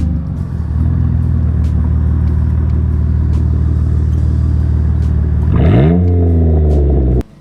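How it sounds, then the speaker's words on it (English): A 4x4 off-road vehicle running with its muffler removed gives a loud, steady, raw engine rumble that holds for several seconds. Near the end it climbs into a sharp rev, and then it cuts off abruptly. "The exhaust is off. Well, the muffler is. It sounds pretty cool though."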